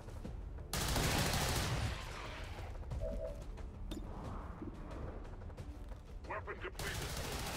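Gunfire in the video game XCOM 2: a loud sustained burst of shots opens, followed by scattered reports and impacts under a continuous battle din.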